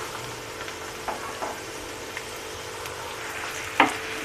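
Onion and tomato sautéing in oil on a tawa for tava bhaji, a quiet, even sizzle with a few soft ticks and one sharper tap near the end.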